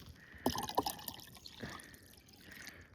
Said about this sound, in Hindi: ये लिया पानी है, ये डाल दो एक बार।